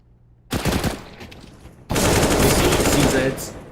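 CZ75 pistol in a Counter-Strike: Global Offensive match, firing in rapid bursts of loud, sharp shots, with one short burst followed after a pause by a longer sustained stream of gunfire.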